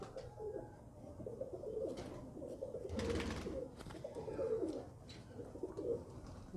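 Pigeon cooing nearby, low repeated throaty coos in a steady rolling rhythm, with a brief rustle in the middle and faint background noise.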